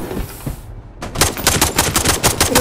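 Automatic gunfire in the shooter video game Level Zero Extraction, loud rapid bursts of shots following a brief quieter stretch, with no talking over it.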